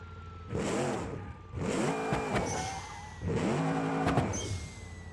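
A car engine in a racing video game revs up in three separate bursts. Each rising, whining pull climbs in pitch and then drops away, with short quieter gaps between the bursts.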